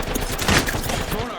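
A Monarch weapon fires in a video game as a dense burst of rapid gunshots, loud and close, with a voice talking over it.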